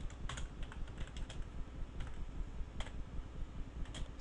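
Rapid clicking keystrokes on a computer keyboard while a date is entered into an Excel spreadsheet cell, close and continuous with uneven rhythm and no voices.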